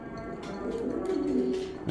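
Pigeons coo steadily in a rooftop loft, a low rolling warble carrying throughout with close, continuous murmuring and a faint scuffle near the end.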